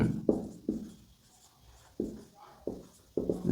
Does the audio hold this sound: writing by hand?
yes